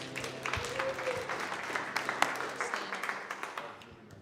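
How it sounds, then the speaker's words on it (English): Church congregation applauding at a service, a warm crowd of clapping that swells and then gradually tapers off, with faint voices mixed in. "Give yourself a big round of applause."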